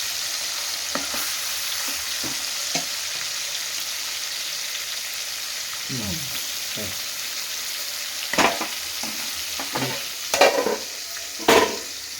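Fish pieces fry in hot oil for a second batch, making a constant close sizzling hiss with a few louder crackles and stirring clatters toward the end.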